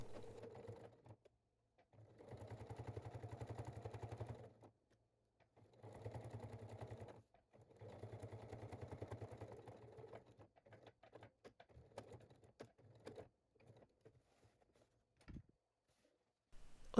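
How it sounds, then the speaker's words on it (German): Domestic sewing machine edge-stitching a pocket panel onto fabric for a large summer beach bag, several separate runs of rapid rhythmic stitching with short pauses between them, then lighter clicks and handling noises, close but fairly quiet. "Diesen Teil der Tasche nun knappkantig auf dem Stoff festnähen."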